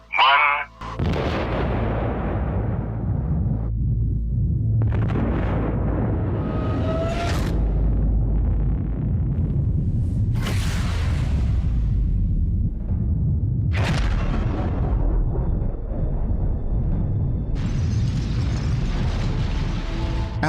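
Deep rumbling blasts of a nuclear bomb test explosion roll on continuously, with several sharp booming bursts rising out of a heavy low roar.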